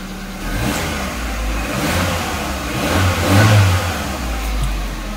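A car engine, just restarted after its battery was recharged, idles and then revs steadily with a surge in throttle partway through, close and fairly loud with no talking.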